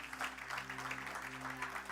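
A church congregation claps steadily through a worship service, a faint, continuous patter of many hands with a low hum underneath and no voices standing out.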